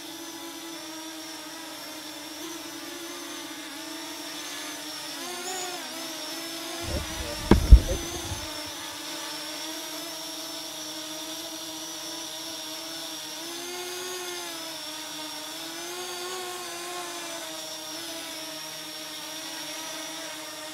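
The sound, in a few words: Parrot Anafi drone flying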